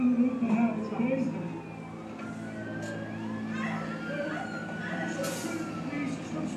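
Faint, distant ambulance siren wailing and sweeping in pitch at a three-vehicle crash scene, with people talking nearby over it.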